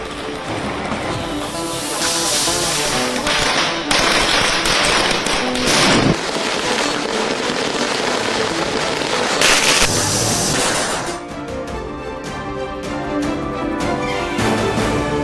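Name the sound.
Diwali firecrackers bursting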